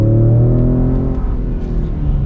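A 2020 Ford Raptor pickup truck accelerates hard, a steady loud engine roar with rising pitch heard from inside the closed cab, with no talking.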